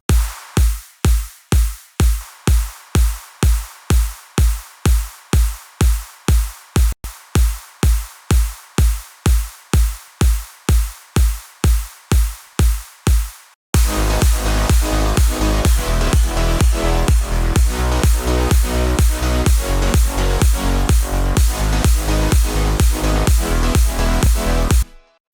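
Progressive house drum loop built in FL Studio: a steady four-on-the-floor kick plays alone for about 13 seconds, then the fuller loop enters with kick and sharp claps layered in, loud and driving, with no talking.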